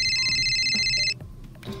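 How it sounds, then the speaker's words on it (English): A loud electronic alarm beeps in a steady, rapid ringing pattern for about a second, then cuts off, leaving faint room noise and a small clatter. "Oh, that was the alarm."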